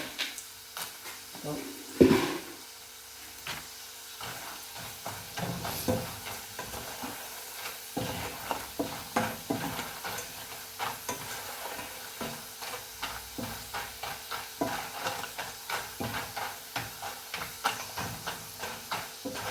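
Cassava frying in a home kitchen pan, a continuous crackling sizzle with frequent spatula scrapes and stirring knocks, close and fairly loud, with a brief voice near the start.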